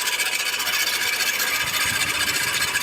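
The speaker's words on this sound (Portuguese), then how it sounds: "esse barulho, eu comecei a dar uma pesquisada e ele pode ser do rolamento da correia auxiliar" A high, steady squeal from the alternator pulley of a Mitsubishi Lancer with a cold engine, a continuous metallic whine over a low engine rumble, close up and with no talking.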